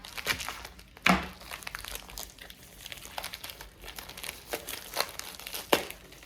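Sticky plastic packaging is peeled off a canvas from a subscription unboxing, giving a steady close crinkling and crackling with sharper tearing bursts near the start and end.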